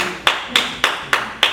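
Five sharp, evenly spaced hand claps ring out loud and close, each with a short decay, from someone in a crowd at a public meeting on economic development in Daytona.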